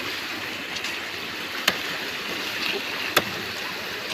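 Strong river current rushes under a bridge in a constant broadband roar of water, loud and close, broken by two brief sharp knocks.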